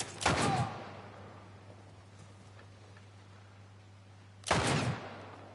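Two sharp gunshots from The Last of Us Part 1 video game, one at the start and another about four seconds later, each loud and followed by a short decaying tail over a steady low hum.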